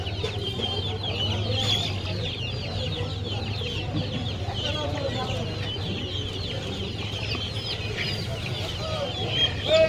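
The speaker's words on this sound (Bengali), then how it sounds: "চীনা মুরগি দেখাচ্ছি আপনাদের।" Chinese chickens at a market cluck and chatter continuously close by, with busy market voices in the background.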